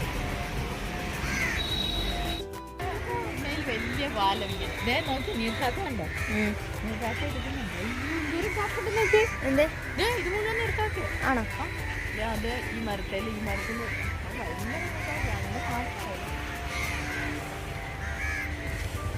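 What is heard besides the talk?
crow cawing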